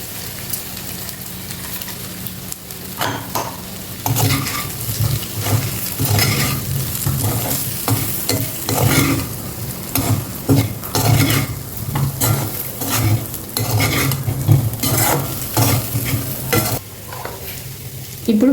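Baby potatoes fry in oil as spice powder is stirred in, a loud close sizzle with frequent scraping and clinking of a spoon against the pan in an uneven rhythm, no voices.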